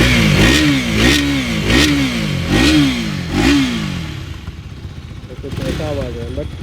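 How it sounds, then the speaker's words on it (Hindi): A KTM Duke 250 Gen3 motorcycle engine running just after start-up, with a rhythmic pulsing throb rising and falling in repeated revs, then settling into a lower, rougher idle; a voice talks over it throughout. "यू कैन सी बाइक जो है बहुत ही साइलेंटली स्टार्ट हुई है और ये आवाज़ सुनते हैं"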